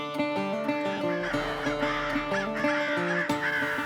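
Electronic crow call played during a public-land crow hunt in Kentucky, repeated caws in a steady rhythm, loud and near, over a continuous tonal background with no talking.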